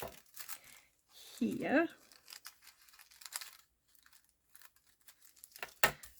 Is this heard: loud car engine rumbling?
no